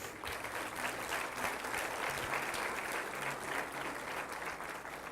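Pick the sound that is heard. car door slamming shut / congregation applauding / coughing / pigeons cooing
congregation applauding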